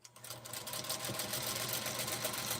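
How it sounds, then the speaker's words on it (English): A vintage sewing machine from about 1947 running steadily, with a continuous close mechanical whir and low hum and no break in the stitching rhythm. "My sewing machine's older than I am."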